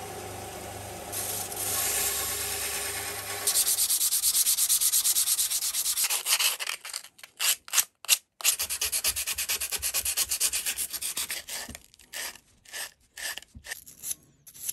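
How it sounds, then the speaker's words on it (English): Sandpaper rubs against a plough plane's depth stop in steady back-and-forth strokes, close and fairly loud, breaking into short separate rasps toward the end. "I just need to get a wee bit of sanding."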